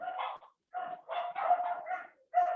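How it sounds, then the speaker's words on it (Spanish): Neighbourhood dogs barking in a residential area, a run of sharp, fairly close barks in quick bursts with short pauses between them. "concierto de perros que no sé por qué se desataron hoy los chiquillos"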